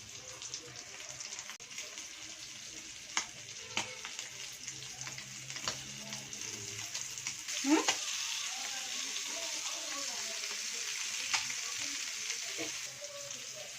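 Fish sizzles steadily in hot oil in a home kitchen, a constant bright frying hiss with a few brief clinks and a short swish near the middle, no talking.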